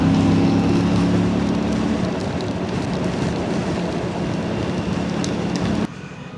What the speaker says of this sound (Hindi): बारिश तो तेज़ हो रही है